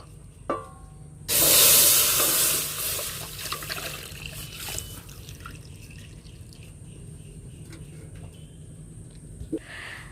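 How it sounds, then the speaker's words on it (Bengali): Milk poured into a wok for mango rasgulla comes in a sudden loud splashing, hissing rush lasting about a second, then fades into quieter trickles and drips against a steady background hum. "এবার দুধটাকে কড়াইতে নিয়ে নেব"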